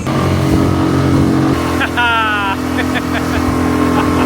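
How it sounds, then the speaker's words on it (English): Small dinghy with an outboard motor running on the water, a steady loud engine drone throughout with a brief higher whine partway through. "I'm gonna go take the dinghy over to Bella Bella to pick up my best friend, Andrew."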